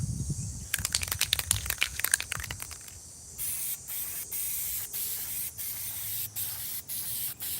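Aerosol spray paint can coating a truck: about three seconds of quick, sputtering bursts, then a long, steady, close hiss of continuous spraying with brief breaks.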